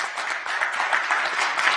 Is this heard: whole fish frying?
no